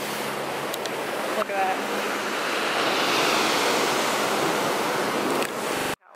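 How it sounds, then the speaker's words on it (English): Ocean waves crash on a tiny beach in Monaco, a loud, continuous roar of surf with wind buffeting the microphone, and a person briefly speaks over it. "These waves are insane."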